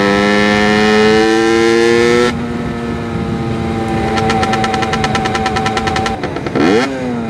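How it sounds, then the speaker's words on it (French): Loud two-stroke engine with no silencer, revving hard and close up: a sustained rising drone, then a rapid sputtering burst, a brief dip and a final sharp rev, with no talk. "Les gars roulaient jamais sans pot sur un deux temps. Enfin sans silencieux."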